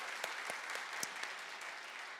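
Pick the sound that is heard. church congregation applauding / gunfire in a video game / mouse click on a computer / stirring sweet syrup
church congregation applauding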